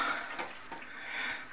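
Water runs through an automatic watering hose in a steady, close, continuous hiss and trickle, with no voices.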